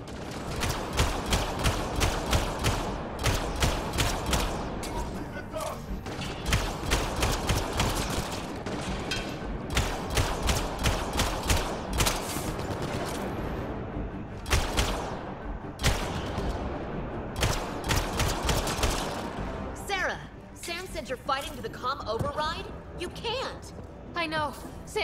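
Rapid gunfire in the sci-fi shooter game Mass Effect: Andromeda, with bursts of automatic weapon fire and heavier blasts repeating loudly and continuously through the fight, and characters' voices shouting at times.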